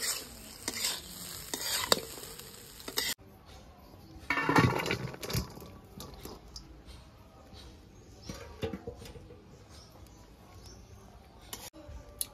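Stale leftover rice frying in a pan in Bengali style, with steady sizzling under loud scraping and stirring strokes: a busy clatter in the first few seconds, a sharp burst near the middle, then quieter continuous stirring.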